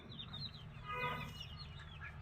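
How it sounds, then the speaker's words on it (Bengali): A grown hen clucks softly in a rooftop pigeon-house setting, a few short low calls close by against quiet background chatter of other birds. "এই মুরগিটা তো বড় হয়ে গেছে"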